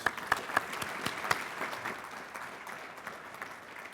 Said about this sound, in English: Let's give them a round of applause for our nominees.